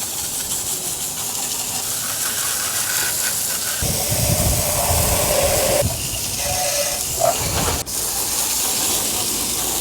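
Pressurised water spray rinsing a Ducati SuperSport 939 motorcycle, a steady hissing rush that shifts in tone partway through as the jet moves across different parts of the bike, with a brief clack near the end.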